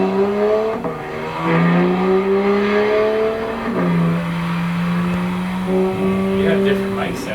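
A car's exhaust is revved repeatedly, the engine note climbing in long rising sweeps, dropping back and rising again, loud and fairly close.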